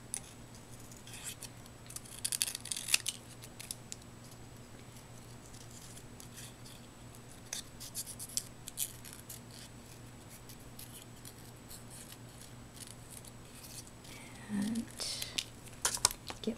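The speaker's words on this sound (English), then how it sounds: "I'm just going to hand cut this around." Scissors cut by hand around a stamped paper piece, making quiet, scattered snips and paper rustles with short pauses between cuts.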